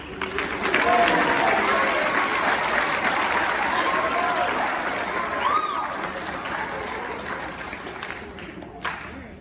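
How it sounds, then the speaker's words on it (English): A symphonic winds winter concert audience breaks into applause, a dense, loud crowd of clapping that swells early and slowly tapers off, with some voices mixed in. "Round of applause."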